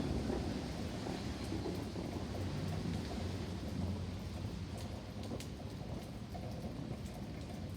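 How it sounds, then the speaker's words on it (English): Distant thunder rumbles low and soft beneath steady rain and wind during a severe thunderstorm, a continuous muffled roar with no voices. "I don't know if you just heard that thunder"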